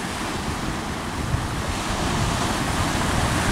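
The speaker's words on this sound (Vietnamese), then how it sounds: "Giờ sóng hơi lăng tăng cho nên là cũng nhảy lắm, như là ổ gà vậy" Choppy sea waves slapping around a fast-moving loaded cargo boat, a loud continuous roar of surf and wind rumble close to the microphone.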